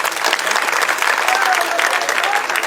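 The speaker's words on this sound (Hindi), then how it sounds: "आप सब लोग हाथ उठा करके और ताली बजा करके उनका स्वागत" A crowd at an election rally claps to welcome a candidate, with brisk, steady applause sustained throughout at moderate distance.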